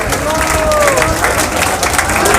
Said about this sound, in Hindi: जोरदार तरीके से तालियां